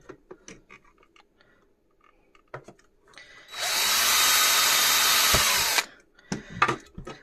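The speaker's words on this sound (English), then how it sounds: "So we're going to drill that. This is a step out drill." A step drill bores into the case of a DeWalt DRC021 site radio in one loud, whining burst of about two seconds, surrounded by quieter clicks and handling knocks before and after.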